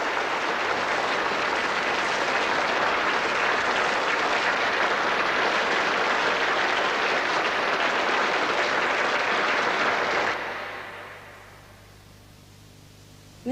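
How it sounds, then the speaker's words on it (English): A crowd applauds loudly and steadily for about ten seconds, then the clapping stops abruptly, leaving a low hum. "what we do give them is a round of applause"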